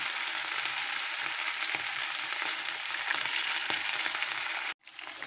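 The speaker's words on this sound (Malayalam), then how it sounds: "ചിക്കൻ 65 ഇവിടെ ഫ്രൈ ആയി വന്നിട്ടുണ്ട്" Chicken 65 frying in hot coconut oil, a steady close-up sizzle and crackle that continues without pause, then cuts off abruptly near the end before resuming faintly.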